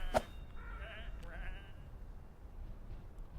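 Sheep in the video game Whateverland bleat in a couple of short, wavering calls near the start, with a faint steady background hum behind them.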